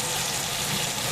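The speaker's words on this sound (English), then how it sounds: "now you hear a lot of noise in the background. That's going to be the exhaust." A kitchen exhaust fan runs over a stovetop while salmon is being cooked in oil, giving a steady, loud broadband rush that fills the whole moment without a break.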